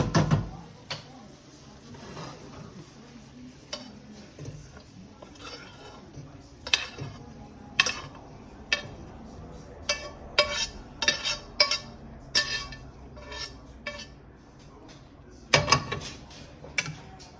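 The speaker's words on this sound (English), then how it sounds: "Stir it. We're gonna stir it up a bit, combine all the flavors together." Meat soaked in wine stirred into a vegetable sauce in a pot for Bolognese: scattered clinks and taps of a spoon against the pot, irregular and moderately close, with quieter stretches between the knocks.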